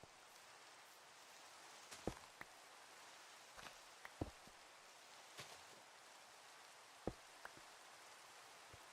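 Steady rain falling in the Minecraft video game, a soft continuous hiss with a few sharper drop-like ticks scattered throughout, heard alone without talk.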